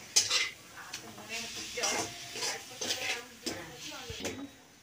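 Fish being stirred into gravy in a kadai with coriander leaves gives repeated metallic scrapes and clinks of a spoon against the pan, several strokes in an uneven rhythm over a soft sizzle, close by.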